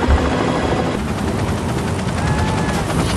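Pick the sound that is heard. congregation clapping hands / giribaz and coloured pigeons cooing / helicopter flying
helicopter flying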